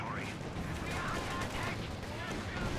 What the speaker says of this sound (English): No, it's artillery.